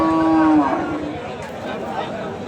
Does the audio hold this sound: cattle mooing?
yes